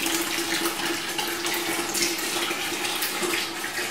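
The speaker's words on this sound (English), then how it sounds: "we just use a funnel and pour it into our drain" Wash water from biodiesel processing pours steadily through a funnel into a drain, a continuous splashing, gurgling rush with a faint tonal ring, close and fairly loud without pause.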